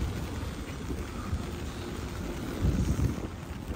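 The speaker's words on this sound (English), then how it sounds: "Oh man, raining again." Steady rain hisses and patters over a surface in Brooklyn, New York, during heavy rains, a dense even wash of noise with some wind rumble, briefly heavier toward the end.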